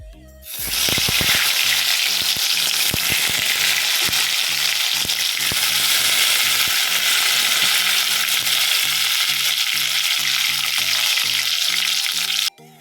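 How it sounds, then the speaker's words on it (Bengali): Thin eggplant slices coated in gram flour batter fry in hot oil, giving a loud, steady sizzle that holds evenly for about twelve seconds, with a faint rhythmic hum running underneath. "ছেলের জন্য এই যে পাতলা করে কেটেছি, বেসন দিয়ে ভাজা করে যাব"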